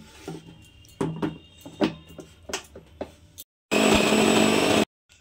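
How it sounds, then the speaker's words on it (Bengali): Electric mixer grinder pulverising chopped banana stem into a paste, preceded by a few knocks and handling sounds, then a loud, steady whirring burst of about a second before it cuts out. "এবার এটাকে আমি মিক্সিতে বেটে নেব।"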